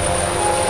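Rescue helicopter flying near a remote island, its steady rotor and engine drone loud and continuous throughout the short moment, with no voices.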